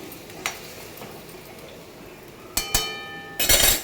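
Curry with green chilli and water is stirred in a pan and then covered: a few sparse metallic clinks, a quick double knock, then a louder clattering burst as the lid goes on.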